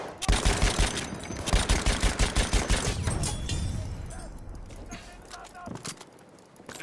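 Rapid automatic gunfire from the player's weapon in Battlefield 1, loud bursts of fast rhythmic shots filling the first few seconds, then fading into a noisy battlefield din with scattered distant reports.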